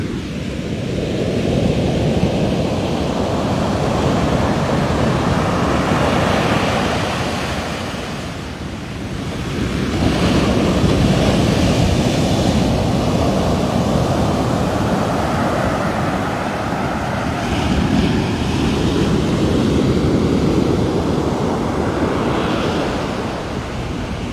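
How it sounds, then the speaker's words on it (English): Ocean surf rolls onto the beach at Ilha de Tavira in Portugal, a loud, continuous wash of breaking waves that swells and ebbs, with wind buffeting the microphone and no talking. "I'll just let you hear the waves for a minute."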